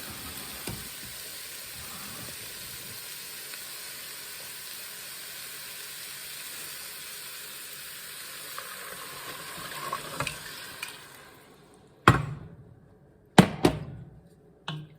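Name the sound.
broth poured into hot pan of lamb stew, sizzling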